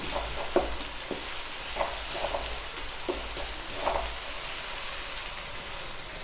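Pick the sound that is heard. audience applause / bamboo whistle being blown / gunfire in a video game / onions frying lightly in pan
onions frying lightly in pan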